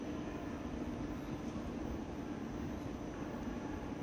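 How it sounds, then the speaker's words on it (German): Railjet Express 764 train pulling into Salzburg Hauptbahnhof, a continuous broadband rumble and hum holding steady at moderate distance, with no voices. "Railjet Express 764 von Wien Hauptbahnhof fährt ein."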